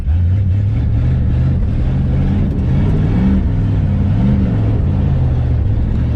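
A 1967 Chevrolet Impala abandoned for 16 years and now running rough revs loudly and continuously while spinning donuts, its engine note rising and falling in waves close to the listener.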